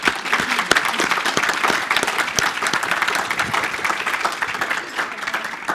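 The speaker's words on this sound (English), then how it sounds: "Give them a round of applause." Sustained audience applause for three presenters at the close of a neighbourhood-planning conference session, dense clapping with sharp individual claps standing out, steady throughout, with faint crowd murmur.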